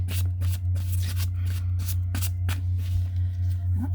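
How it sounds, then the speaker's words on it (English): Tarot card decks are shuffled by hand, a quick run of crisp riffling flutters and soft taps over a steady low hum, close and fairly quiet. "I shuffle the decks after a reading"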